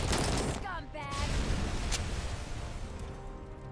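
Gunfire rings out in the video game RoboCop: Rogue City: several sharp, loud shots crack in quick succession near the start and then decay into a noisy game background.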